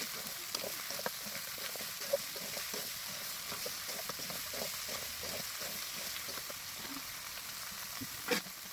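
Goat meat sears with salt in a pan, giving a steady, dense sizzle with scattered scraping stir strokes and one sharp clack near the end; no voices.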